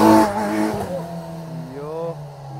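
A Kawasaki Z900 motorcycle engine revs hard during a wheelie, starting loud and close and then holding a steady, slightly rising drone. Voices talk over the first part.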